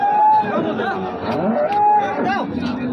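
Cattle mooing loudly and close by at a cattle market, several long drawn-out lowing calls one after another, with faint crowd chatter in the background.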